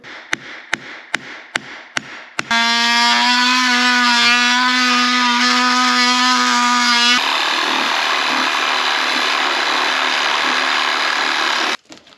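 An oscillating multi-tool cuts out around bolts during a guest house renovation. A few sharp taps give way to a loud, steady, buzzing whine that shifts in pitch partway through, then cuts off abruptly.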